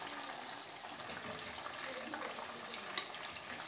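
Boneless fish fingers fry in hot oil with a faint, steady hiss and crackle, even and unbroken, with one small pop near the end.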